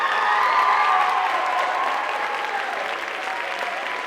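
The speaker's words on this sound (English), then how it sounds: "Applause for our 8th graders." Audience applause for eighth graders at a school production of The Sound of Music, a dense steady roar of many hands clapping that stays loud throughout and eases only slightly toward the end, with faint cheering mixed in.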